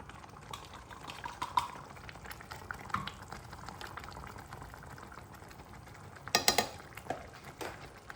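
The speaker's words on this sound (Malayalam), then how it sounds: "തിളക്കട്ടെ കേട്ടോ. നന്നായി വെട്ടി തിളയ്ക്കണം." Water for protein upma comes to a rolling boil in a pot, a soft, steady bubbling simmer heard close but quiet, with a brief cluster of metallic clinks partway through.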